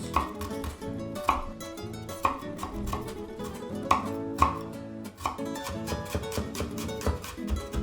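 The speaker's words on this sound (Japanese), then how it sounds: "続いてニンニクもみじん切りにしていきます。" Garlic is finely minced with a kitchen knife on a cutting board, giving quick, steady rhythmic chops that stay close and fairly loud throughout, with no one speaking.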